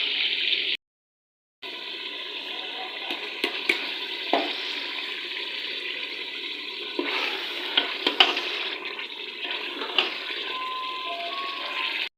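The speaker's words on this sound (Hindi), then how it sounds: "हांडी की भुनाई करते वक्त हम इसमें डालेंगे थोड़ा सा दही।" Mutton keema with potatoes sizzles steadily in a handi pot while being roasted with yogurt, a continuous close frying hiss with scattered clinks and stirring scrapes and one short silent gap.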